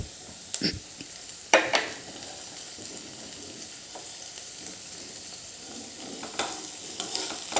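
Chopped tomato roasts in a pan with a soft, low sizzle, broken by a few sharp scrapes and clacks of a spoon stirring it around.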